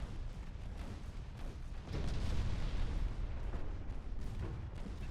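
Torpedo hits striking warships in the Ultimate Admiral Dreadnoughts naval battle game, heard as a continuous heavy rumble of booming impacts that swells loudly around the middle and keeps rolling without pause, with no talking over it.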